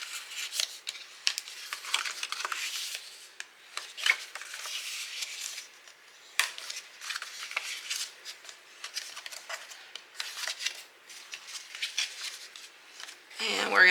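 Paper pieces of a handmade shirt-and-tie gift box being folded and handled, giving soft crinkling, rubbing and crisp creasing rustles in close, irregular bursts, with quiet gaps between.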